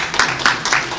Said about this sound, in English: That was a clap there